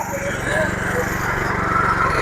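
A stubble mower runs steadily in a sugarcane field, its engine a rapid, even chugging throb that holds close and constant throughout while a person talks over it.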